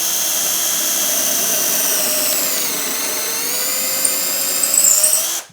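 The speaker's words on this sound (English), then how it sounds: "I'm going to bring it up to speed." A power drill held in a Perspex guide spins up and runs at a steady high-pitched whine for several seconds, rising slightly toward the end before cutting off, with no talk.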